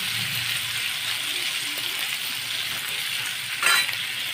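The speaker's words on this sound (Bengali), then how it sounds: "এবার গ্যাসটাকে একদম স্লো করে দিয়ে এই কলাটাকে ভাজতে হবে।" Raw banana pieces fry slowly in a pan over a very low flame, giving a soft steady sizzle with a brief louder clink or stir near the end.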